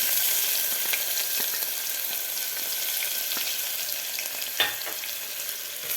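Fresh ginger-garlic paste frying in oil for a pressure-cooker whole masoor curry, with a steady close sizzle and a brief stirring knock near the end, no voices.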